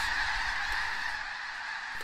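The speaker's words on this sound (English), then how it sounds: "skies full of migratory birds" Geese and other migratory birds honk and call continuously across the open Alaskan Arctic, a dense overlapping chorus at a moderate distance with no voices.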